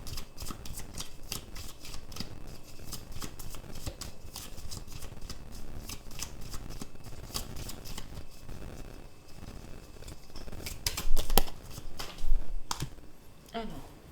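Tarot cards are shuffled and cut by hand in a rapid series of crisp riffling, flicking and tapping clicks, close and fairly loud, with a few heavier slaps near the end and no audible talk.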